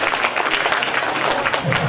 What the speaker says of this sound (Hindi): एक बार जोरदार तालियां बजाने से